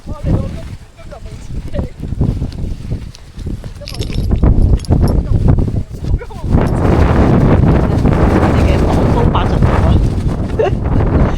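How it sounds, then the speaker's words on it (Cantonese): Strong wind gusts batter a hillside campsite in Hong Kong with a tent and windbreak shelter, a loud, continuous roaring rush that swells and stays heavy throughout, buffeting close to the microphone. "真係好大風"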